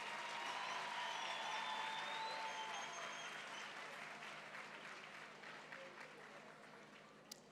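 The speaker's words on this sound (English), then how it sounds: "can we please give a round of applause for the Deputy Minister?" Audience applause at the National Science Month launch ceremony on the Vaal University of Technology campus, welcoming the Deputy Minister; dense, steady clapping from a large crowd that slowly fades, with a faint voice rising over it.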